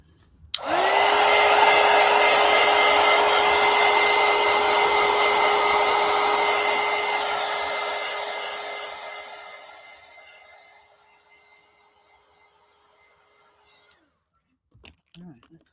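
A handheld hair dryer blows on a coloring book page: a loud, steady whirring roar with a constant hum switches on abruptly, runs for about nine seconds, then winds down and fades, leaving near silence and a brief faint handling sound at the end.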